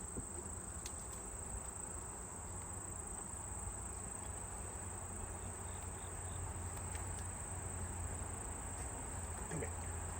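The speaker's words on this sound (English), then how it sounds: "that's a whole lot of bees. That's a whole lot of drones too." Honeybees buzz around an open hive during a mid-September inspection, with many drones in the colony. The buzz is a steady, dense drone that holds at the same level throughout and is close and continuous.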